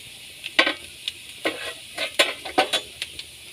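Garlic, onion and ginger frying in a pan, heard as a low sizzle broken by sharp scraping stirs of a spatula at an uneven pace, close up with no voices.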